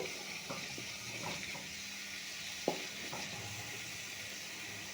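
Spice paste with salt sizzles steadily in a pan while being stirred for a prawn, turnip and potato curry, with a few soft scraping clicks over a constant close hiss.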